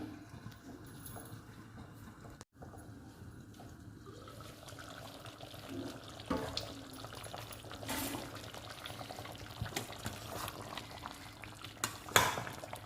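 Tomatoes boil in a covered, steaming pot for chutney, a soft continuous bubbling and hiss that grows busier, with a few louder pops and lid clinks near the end.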